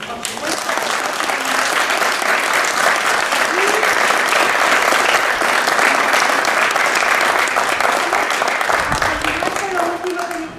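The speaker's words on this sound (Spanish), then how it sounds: "A ellos les vamos a aplaudir" An audience at a paleontology conference applauds the speakers, sustained, thick clapping that swells and holds for about ten seconds before tapering, with scattered voices murmuring beneath it.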